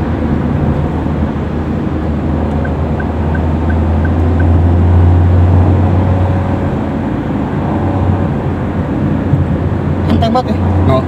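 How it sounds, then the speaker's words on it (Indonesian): A Toyota Agya 2024 Type G with a CVT engine revs in pedal shift mode, giving a steady, fairly loud droning hum that swells gently through the middle and eases toward the end. "dia suara mesinnya lebih ngebrum, lebih kedengeran gitu kan"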